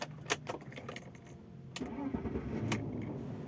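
A BMW E39 520i sedan starting in a parking lot in Senayan, with a few key and starter clicks before the engine catches and settles into a steady, moderate idle.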